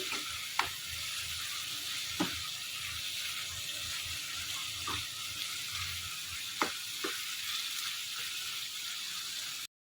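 Ginger garlic paste fries in a pan for chicken gravy under a constant soft sizzle, with occasional sharp spoon taps on the pan as the mixture is stirred.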